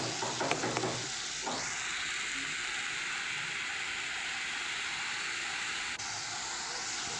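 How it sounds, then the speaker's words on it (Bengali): Spice paste for an elish fish-head and kochu shak ghonto frying in a pan, a steady loud sizzle running continuously after a few opening clatters, with no talking. "সুন্দর করে মশলাটাকে ফ্রাই করে নিতে হবে, যাতে কোনো কাঁচা গন্ধ না থাকে"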